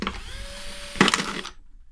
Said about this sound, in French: on va mettre une mèche de 4 sur la perceuse pour percer le fond de la bouteille